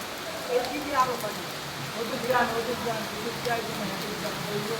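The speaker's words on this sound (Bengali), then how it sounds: "তো প্রচুর ধরনের বৃষ্টি হচ্ছে।" Heavy rain pours onto a flooded street in Dhaka, a continuous wash of close drops and splashes with scattered louder spatters throughout.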